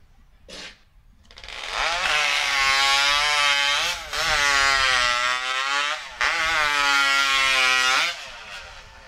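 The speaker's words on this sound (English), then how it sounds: "As sawdust is just flying everywhere. Engines are revving left and right." Chainsaw engines at a STIHL Timbersports professional qualifier, loud high-pitched revving held in long sustained bursts with brief dips between, close and dominating the scene.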